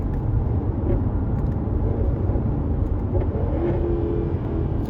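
A 2016 Jaguar F-Type R's supercharged 550hp V8 drones and rumbles from inside the cabin while downshifting, with slight rises and dips in pitch; no talking.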